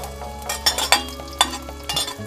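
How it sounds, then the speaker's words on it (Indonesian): Small anchovies fry in a pan over low heat, a soft steady sizzle broken by several sharp clinks and scrapes of a utensil against the pan, close and fairly quiet. "Kita goreng ini terinya ya."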